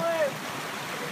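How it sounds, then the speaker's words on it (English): River water flows in a steady, soft broadband wash while someone climbs upstream, with a brief high whistle-like tone near the start. "Climbing the river right now."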